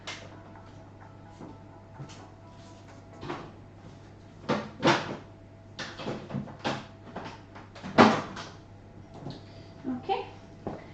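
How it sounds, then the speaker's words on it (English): A home fridge door is opened and shut. Several scattered clunks and thuds sound nearby, with a person talking between them. "the fridge door's not closing now"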